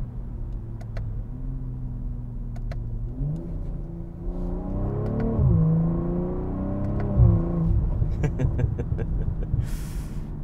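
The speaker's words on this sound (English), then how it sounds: "Instant gear shifts, the crackle of the exhaust" A 2023 BMW M340i LCI accelerates hard, its engine note rising and falling through quick gear shifts, with sharp exhaust crackles and pops near the end over a steady drone.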